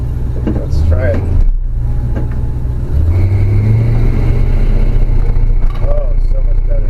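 A C10 truck's small block Chevy V8, fitted with a new carburetor and fuel pump, revs and pulls away loudly and close, with rising engine tones and a brief dip between surges, while people talk over it.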